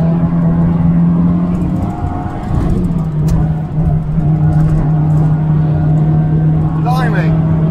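A 1977 Mitsubishi Lancer 1600 rally car engine roars and revs hard as it accelerates, loud and close throughout, with a short squeal near the end.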